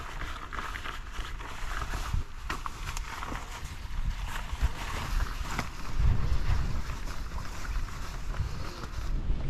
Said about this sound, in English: it's like horizontal rain, it's getting really, really windy.